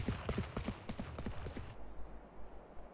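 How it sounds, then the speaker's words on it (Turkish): Yoru's decoy footsteps in Valorant, a quick train of sharp, clopping steps that runs for about a second and a half and then stops abruptly, leaving quiet background with no speech. "Bu şekilde sahte ayak sesleri yaratabilirsiniz."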